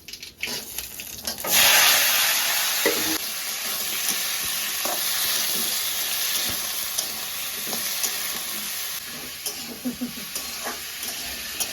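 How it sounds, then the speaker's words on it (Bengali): Panch phoron spices sputter and sizzle in hot oil while pumpkin fries, with a loud steady hiss and crackle close up, joined by scraping and stirring sounds. "আপনারা পাঁচ ফোড়নও দিতে পারেন ফটফট করে ফুটে সব চলে আসছে"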